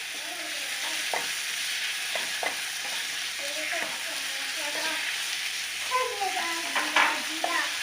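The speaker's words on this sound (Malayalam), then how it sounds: "ഇനി അതിലേക്ക് കട്ട് ചെയ്ത തക്കാളി ചേർത്ത് കൊടുക്കാം" Chopped tomatoes sizzle and fry in a pan for paneer biryani while a spoon stirs them, giving steady close frying hiss broken by scraping stir strokes, with no talk.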